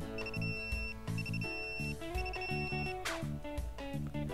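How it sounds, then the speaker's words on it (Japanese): Electronic telephone ringtone in the dating-sim game Tokimeki Memorial 4, a bright repeating melodic ring pattern in short phrases over backing game music, clear and up front with no talking. "マナブとただしに電話をしましょう。"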